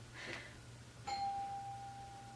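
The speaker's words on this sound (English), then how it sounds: "Someone just rang my doorbell." Doorbell in a quiet home: a faint two-tone electronic chime, a short first note then a longer sustained tone ringing out, heard alone against low room hum.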